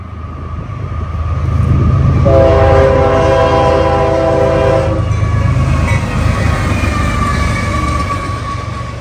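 Freight train M852 passing by the track, a loud sustained rumble with a long two-tone horn blast swelling in and fading, close and alone, with no voices.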